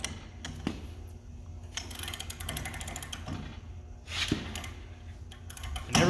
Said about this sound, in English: we're going to take a torque wrench and we're going to go ahead and preload this bearing